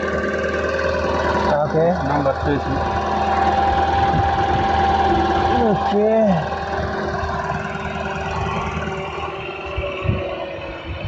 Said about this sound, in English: The engine is V8. It's 8 cylinders.